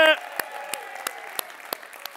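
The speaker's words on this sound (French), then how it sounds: "Grosse main d'applaudissements." A brief voice fragment at the start, then slow, evenly spaced claps from a small group, sharp and fairly close.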